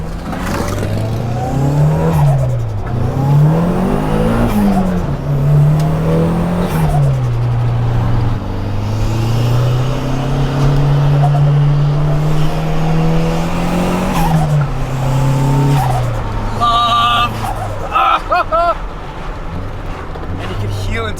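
A turbocharged sleeper car accelerating hard through the gears, the engine note rising and dropping with each shift, loud and close, with tire noise and a person talking over it.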